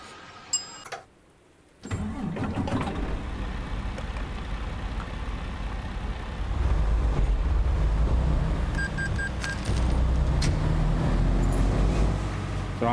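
A car engine cranks, catches and settles into a steady idle, then grows louder and rougher as the car pulls away, with the engine up close the whole time.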